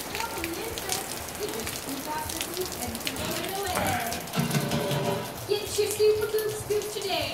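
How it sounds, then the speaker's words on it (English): Rain falls steadily outside at the back of a house, a soft continuous patter and hiss, with faint voices and scattered household sounds mixed in underneath. "Raining outside the back here."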